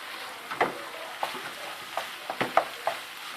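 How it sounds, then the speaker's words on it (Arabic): Chicken breast frying in a pan with sautéed peppers and onion, a soft steady sizzle broken by several sharp stirring scrapes and clacks, close and alone. "غادي نضيف عليهم هاد الصدر تاع الدجاج هكا، وغادي نخليه حتى هو يتشحر شويه"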